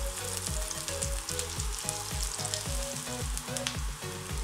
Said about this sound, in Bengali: পেঁয়াজ কুচি দিয়ে দিলাম 1/4 কাপ। এবার এগুলোকে ততক্ষণ ভাজবো যতক্ষণ না পেঁয়াজের কালারটা চেঞ্জ হয়ে একটু স্বচ্ছ হয়ে আসে।